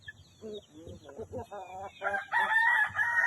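A rooster crows loudly nearby amid a run of clucking hens on a farm, the calls overlapping in an uneven burst.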